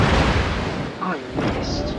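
A battleship's main gun salvo booms in World of Warships, a heavy, rumbling blast that swells and fades over a couple of seconds.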